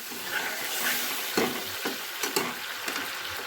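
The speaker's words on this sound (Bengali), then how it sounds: "এবারে আমি এখানে দিয়ে দিচ্ছি পরিমাণ মতো জল" Water is added to a frying crab masala curry in the pan. It gives a steady sizzle with several sharp bursts and spoon scrapes over a few seconds.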